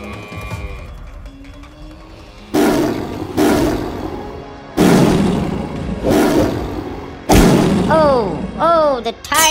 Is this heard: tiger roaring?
yes